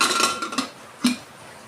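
Metal cooking pot set down on a stove, two short clanking knocks of metal against metal, close and clear with no talk.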